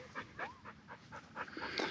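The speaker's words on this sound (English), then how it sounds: "we just had a dog come out of nowhere" A dog that has wandered out of the woods to a fishing spot pants close by, quick rhythmic breaths repeating steadily with a small whine partway through.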